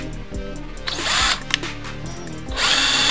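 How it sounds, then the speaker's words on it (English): A power drill pre-drills holes in a wooden board, running in loud bursts: a short spin, a longer whining run with a sharp click midway, then another run at the end. "I always like to pre-drill the holes to try to make sure it doesn't split the wood."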